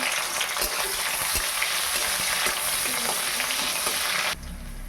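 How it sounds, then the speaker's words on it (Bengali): Chopped onion and five-spice seeds fry in hot oil with a loud, dense, continuous sizzle, crackling up close with occasional sharp pops before the hiss suddenly drops to a softer level near the end. "তেল গরম হয়ে গেছে, এবার দিয়ে দেবো 5 ফোড়ন। দিয়ে দেবো পেঁয়াজ কুচি।"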